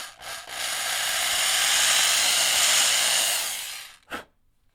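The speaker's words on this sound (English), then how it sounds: "I will drill my two little pilot holes." Power drill boring two small pilot holes for a guitar tremolo stopper install, a steady close whirring grind of about four seconds with a brief second burst at the end, no talk.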